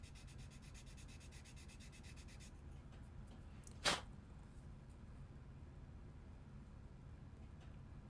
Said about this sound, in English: just sanding the top here and getting that nice and flush